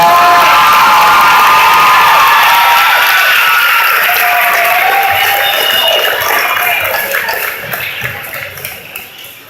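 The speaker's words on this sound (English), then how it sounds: "Please give them one round of applause as they return to their seats" A school graduation audience bursts into loud applause and cheering for honor society seniors, with whoops and shouts over dense clapping that gradually fades out.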